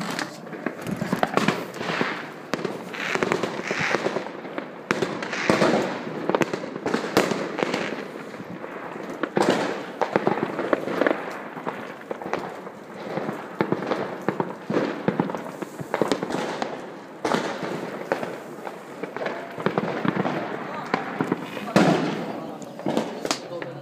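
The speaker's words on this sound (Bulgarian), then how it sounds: "Много красива заря." New Year fireworks going off in a continuous barrage of crackling bursts and pops, loud and dense throughout, with people talking over them.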